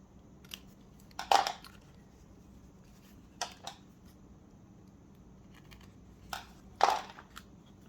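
Paper ends for a junk journal page trimmed with crisp, quiet cuts, a few soft snips spaced out with two firmer crunching cuts, close and alone in a quiet room.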